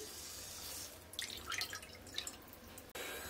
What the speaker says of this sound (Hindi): अब एक बर्तन में हम एक कप पानी लेंगे,